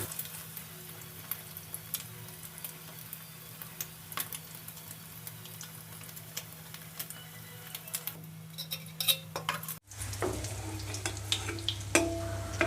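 Eggs fry in oil in a pan for egg podimas, a soft continuous sizzle with scattered crackles and pops throughout, faint and steady with no talking.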